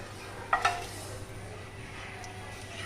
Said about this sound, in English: we have to go on stirring it continuously